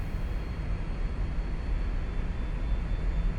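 The jet engines of a Cessna Citation II in X-Plane 11 give a steady, low broadband rumble with a faint high whine, as power comes up for taxi, with no talking.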